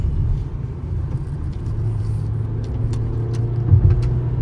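A 2026 petrol Kia Seltos engine pulling in third gear with the air conditioning on, a steady low droning rumble heard from inside the cabin with a slight rise near the end.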